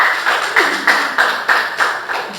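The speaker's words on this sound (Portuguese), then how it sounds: "Vamos dar uma salva de palmas para você?" A church congregation claps together in a few loud, spaced bursts, each swell rising and fading in a steady rhythm over a couple of seconds, close and alone with no talk over it.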